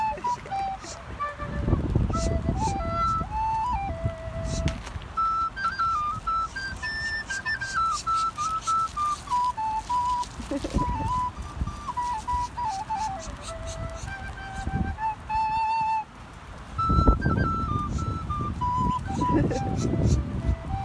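Someone plays a simple melody on a recorder from inside a car while Muscovy ducks gather nearby, with clear, breathy piping notes rising and falling in a steady tune and occasional voices talking over it.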